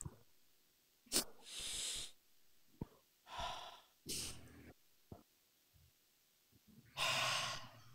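An elderly patient draws deep, audible breaths, several close, airy inhales and exhales separated by short pauses, with soft voices and small clicks in between.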